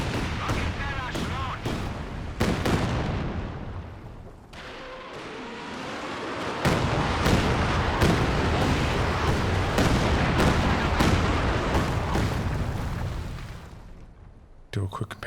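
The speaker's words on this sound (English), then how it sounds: "The Calliope firing at 60 range, like how long it takes between targeting and then the rockets landing." Calliope rocket artillery in Company of Heroes 2 fires a rapid volley of rocket launches, then a dense rolling run of explosions as the barrage lands, loud and continuous with sharp bursts throughout.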